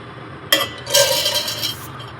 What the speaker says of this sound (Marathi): एक कप हिरवे मूग घेतलेले आहेत ते मी मिक्सरच्या जारमध्ये मी घालत आहे